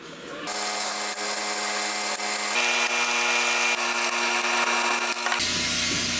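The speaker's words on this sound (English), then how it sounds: "I'm going to cut this now straight and then cut a bit more off it" A saw cuts through a piece of brass close up, giving a continuous loud grinding rasp with a steady metallic ring that shifts in pitch partway through.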